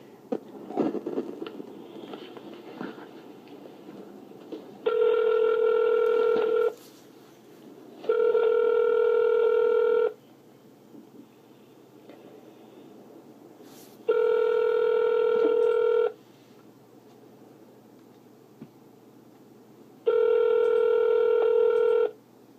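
Four long, steady electronic telephone tones, each about two seconds, repeat at regular intervals on an outgoing call, loud and clear against a faint background hiss.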